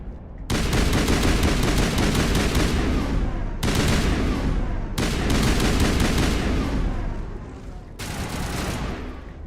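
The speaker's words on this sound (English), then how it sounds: "Oh hell, this assault rifle is just too good." Long, dense bursts of assault rifle fire in Mass Effect, loud and close, with three sharp breaks between the sustained volleys.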